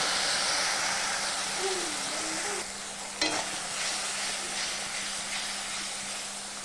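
Salt, chilli powder, Kashmiri chilli powder and turmeric fry with a little water in a pan, giving a steady soft sizzle and hiss with occasional stirring scrapes, one brief sharp knock midway, no talking.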